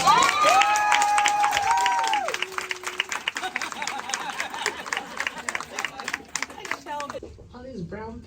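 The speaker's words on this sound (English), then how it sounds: "Can we give another round of applause?" An audience claps and cheers at a book signing in New York City, starting loud with bright whoops, then thinning into scattered clapping and chatter before fading out.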